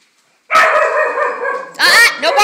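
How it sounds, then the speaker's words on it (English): A dog barks loudly and close indoors in a house with pet birds: one long drawn-out bark, then two sharp shorter barks. "No barking! Shush!"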